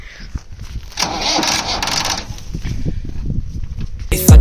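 A tractor that has been hard to start cranks and catches, a rough engine rumble building and running unevenly near the listener, with a brief loud burst at the end.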